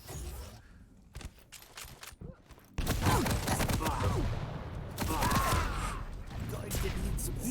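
Rocket launchers firing and exploding in a Quake Champions match, a sudden loud blast at about three seconds followed by sustained heavy combat noise, with commentators talking over it.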